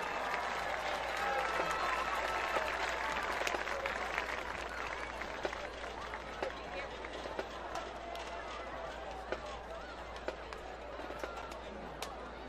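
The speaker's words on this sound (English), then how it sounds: "Let's give one more round of applause for the Pascagoula High School Band." A crowd in the stands applauds the Pascagoula High School marching band at a high school football game against Biloxi, with sustained clapping and cheering that stays dense and fairly distant before slowly thinning out.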